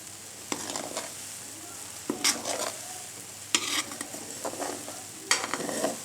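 Clarified butter sizzling in a hot pan after the flame is turned off, a soft continuous crackle with four bursts of stirring scrapes, close and fairly quiet.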